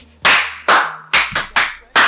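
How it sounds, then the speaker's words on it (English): Six sharp, close hand claps ring out one at a time with short gaps between them, loud and crisp with nothing else heard. "Clap for coffee."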